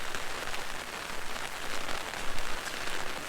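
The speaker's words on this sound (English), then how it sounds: "It's unrelenting rain" Steady heavy rain patters on an umbrella at Yellowstone's Trout Lake, a close, dense hiss of drops that stays constant and unbroken throughout.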